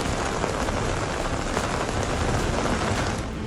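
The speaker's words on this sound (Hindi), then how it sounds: "हिमाचल प्रदेश में बीते 3 दिनों से लगातार बारिश जारी है।" Heavy rain pouring steadily in Himachal Pradesh during days of continuous monsoon downpour, a dense even hiss of drops hitting surfaces, loud and close with no voices.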